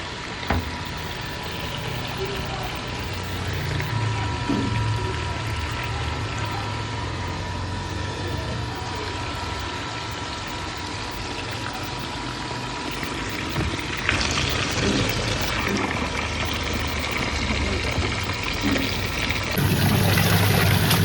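Water pumped through a pipe into the tub of a washing machine at home: a steady, rushing gush that runs unbroken for about twenty seconds, with a slight swell near the end.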